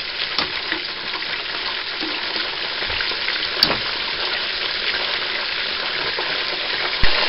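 Creamed spinach sauce stirred in a pan as it thickens, a steady bubbling sizzle with soft scraping and a couple of sharper utensil knocks, close and even throughout.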